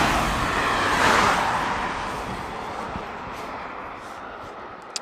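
Cars passing close by on a road, a broad whooshing swell that peaks and then eases into steady traffic rumble, with no talking.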